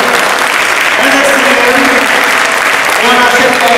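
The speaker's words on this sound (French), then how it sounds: "On les applaudit bien fort." Audience at a Quebec City hackathon clapping loudly, a dense, sustained burst of applause with a voice and some tonal sound running beneath it throughout.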